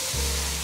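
Cabbage stems drop into a hot oiled wok and set off a sudden, loud, sustained sizzle that holds steady after the initial burst.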